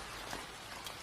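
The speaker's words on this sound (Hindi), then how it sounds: "बरसात का मौसम शुरू हो जाता है और तेज़ बारिश होने लगती है।" Heavy rain pours in an animated children's story, a dense, even hiss of falling drops heard alone with no voices.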